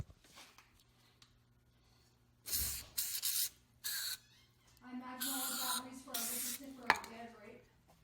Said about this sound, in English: We'll spray both sides.